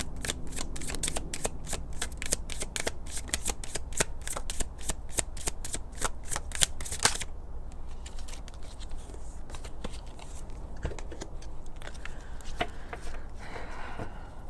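Tarot cards being shuffled by hand, a rapid run of crisp riffling flaps for about seven seconds, then softer, looser card handling and quiet rustling, fairly close and with no talking.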